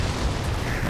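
A rocket explosion in the Halo 4 video game, heard as a dense, loud, sustained roaring blast filling the whole moment with deep rumble and broadband noise.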